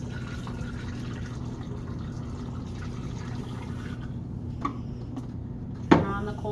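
Liquid being poured from a container back into a jug of photographic fixer in a darkroom, a continuous low gurgling pour with a brief splash and clunk near the end.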